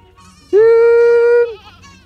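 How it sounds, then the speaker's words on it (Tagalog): A single loud, close goat bleat on a farm, one sustained nasal cry lasting about a second against a quiet background. "Ayan yung mga kambing natin,"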